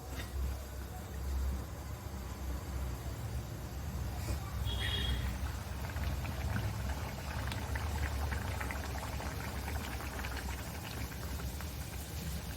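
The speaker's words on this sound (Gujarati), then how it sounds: "હવે બીજું ભટુરું આપણે તળી લઈશું" Bhatura frying in hot oil for chole bhature gives a steady, dense crackling hiss that runs evenly throughout, with no talking.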